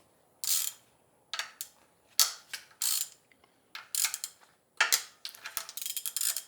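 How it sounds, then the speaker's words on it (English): Ratchet wrench with a 10 mm socket cracking loose bolts on a BMW M54 engine during teardown, heard as several bursts of rapid, bright clicking separated by short pauses, close and clear, with no talk. "So you just need a 10 mil to crack this loose, this one, that one."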